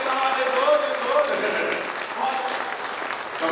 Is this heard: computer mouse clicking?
no